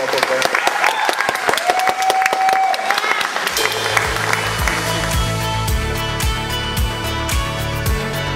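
An audience at a civil ceremony breaks into dense, sustained applause that swells and carries on steadily, with a tone and some voices heard early on before the clapping fills the space.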